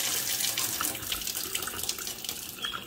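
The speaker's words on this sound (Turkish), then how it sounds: "Evet, suyumuz akıyor şu an." Water runs steadily from a newly installed tap during a home repair, a close, continuous hiss and splash filling the sink with no voices.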